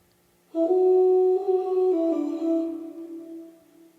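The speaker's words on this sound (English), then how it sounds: "It's a vocal sample, a choir sample" A choir vocal sample from Splice swells in suddenly with sustained sung tones, holds a rich chord for about two seconds, shifts pitch slightly, then fades out gradually, alone with no talking.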